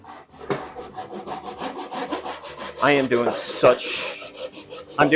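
Hand saw strokes rhythmically through a wooden workpiece at a woodworking bench while building a storage box, steady rasping cuts close by with a heavier, more vigorous stretch toward the end.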